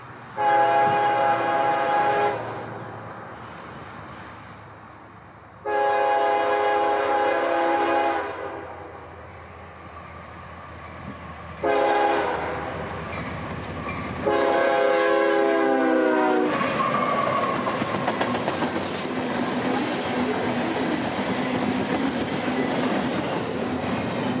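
Freight train on the S-line near Blackfoot Creek in Ridge Manor, Florida, rounding a curve with its horn sounding in several long blasts, then the rumble and clatter of passing cars close by.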